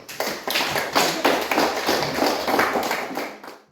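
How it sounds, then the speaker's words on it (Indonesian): A small classroom group claps for a student named Silvi, uneven bursts of hand claps in loose rhythm, fairly close, fading out after a few seconds. "Oke, tepuk tangan untuk Silvi."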